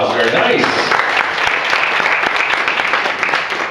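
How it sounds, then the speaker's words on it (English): Wedding reception guests at Disney's Yacht Club Resort break into loud, dense applause, with voices and cheers mixed into the clapping throughout. "Give Rob a round of applause."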